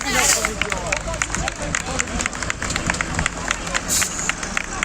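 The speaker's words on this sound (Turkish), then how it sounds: "halkın, halkın isyanını görüyorsunuz alkışlarla" A crowd of villagers protesting electricity transformer removal in Yaprakbaşı, Bismil, Diyarbakır claps steadily and continuously, with shouting and babble mixed in, dense and loud throughout; a voice talks over the noise.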